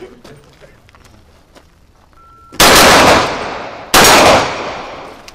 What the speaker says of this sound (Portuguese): ele vai atirar